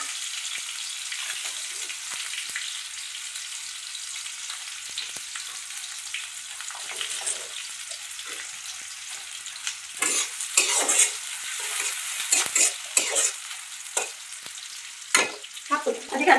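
Green chilies, onions and bay leaf frying in a pan with a bright, steady sizzle, while stirring scrapes and clatters grow busier toward the end; no voices.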